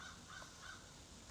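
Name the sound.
crow cawing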